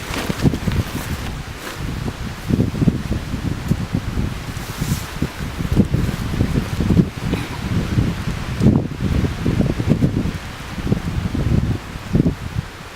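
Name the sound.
wind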